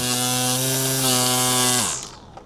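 A cordless 21V battery-powered string trimmer whines at a steady high pitch while cutting along an edge, then spins down and stops near the end.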